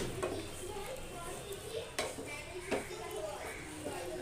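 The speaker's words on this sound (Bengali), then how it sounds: "চাটনিটা হয়ে গেছে মনে হচ্ছে একটু নেড়ে চেড়ে দিই" Tomato chutney being stirred in a pan, a spoon scraping and clinking against the metal with a few sharper knocks, close and steady under faint background noise.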